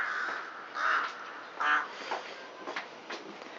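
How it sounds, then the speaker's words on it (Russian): A crow perched in a tree outdoors on a thawing day gives a few hoarse caws at moderate distance, spaced apart, over steady background noise. "О, ворона сидит на дереве"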